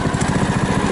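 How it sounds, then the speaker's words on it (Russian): The four-stroke engine of an Albatros XLV9 motorized towing unit runs close and loud, a rapid, steady chugging throb in a very brief stretch with no voices. "Заводить, запускать двигатель."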